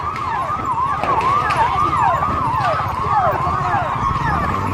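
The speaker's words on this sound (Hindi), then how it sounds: "गाड़ी आ चुकी है, फायर ब्रिगेड की गाड़ी आ चुकी है आग बुझाने के लिए" Fire brigade truck siren arriving at a fire at the Maha Kumbh, a loud continuous wailing siren cycling rapidly up and down without a break.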